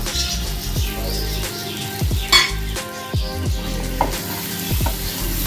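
Steady loud sizzling of curry leaves frying in hot oil, with a spoon scraping and clinking against the pan now and then.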